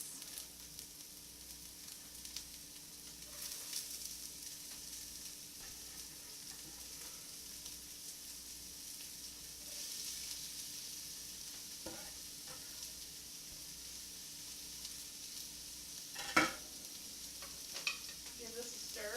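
Celery and carrots sauté in oil with a quiet, constant sizzle and occasional clicks and scrapes from stirring, heard close but faint, with no talking.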